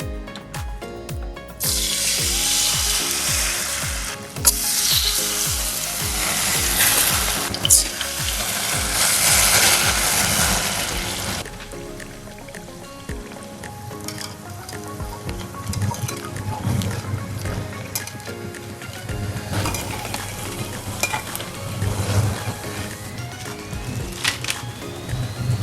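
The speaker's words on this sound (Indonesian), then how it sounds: "Nah, sekarang saatnya menggoreng." Eggless peanut rempeyek batter with kaffir lime leaves fries in hot oil, a loud continuous sizzle and crackle with occasional stirring clatter, no talking.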